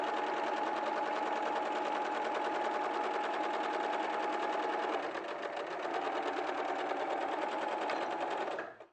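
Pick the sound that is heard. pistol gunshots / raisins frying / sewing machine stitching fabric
sewing machine stitching fabric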